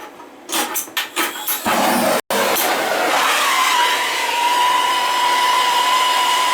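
A heat gun aimed at a Moen tub spout clicks and sputters briefly, then switches on to a loud, steady blowing whoosh with a rising whine that settles into a sustained tone, close and uninterrupted.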